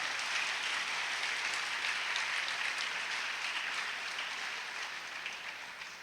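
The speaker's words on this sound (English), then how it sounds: "a big special round of applause right now?" Steady, dense applause rises from a crowd at an 8th grade graduation ceremony, honoring caregivers and mothers, holding even throughout and easing slightly near the end.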